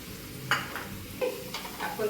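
Whole spices crackle and sizzle in hot oil in a pan for an egg masala, with a few sharp scraping stirs of a spoon against the pan over a steady frying hiss.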